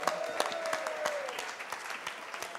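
An indoor audience at a book café event claps steadily for the bookshop, a dense, even patter of many hands lasting the whole stretch without clear cheering or voices.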